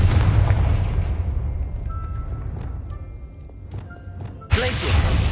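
Fiery Confringo spell explosions in Hogwarts Legacy: a loud burst opens the clip, several smaller pops and impacts follow, and a second heavy blast lands near the end.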